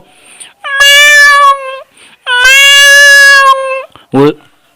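Twice, a human voice does a drawn-out, nasal imitation of a cat meow, loud and close, followed by a short rising squeak.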